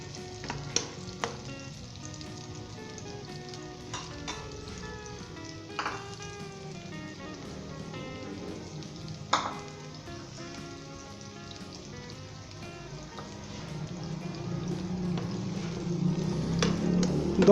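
Onion and ginger fry in oil toward light golden brown, a steady crackling sizzle with occasional sharp pops and stirring knocks, growing louder and fuller near the end; no speech.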